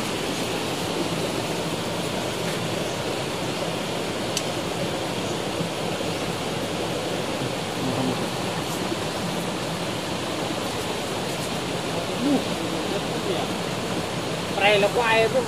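Strong water flows over rocks in a forest stream, a dense, steady rush heard up close that never lets up, with a few faint sounds near the end.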